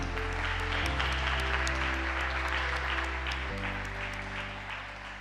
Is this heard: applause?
yes